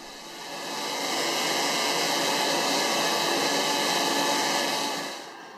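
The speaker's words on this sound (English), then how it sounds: "take it to the Ornamental Lathe for the very precise final shaping" Steady broadband whirring hiss of an ornamental lathe shaping a maple wooden egg, rising in over a second, holding evenly for several seconds, then tapering off at the end, close and continuous with no talk.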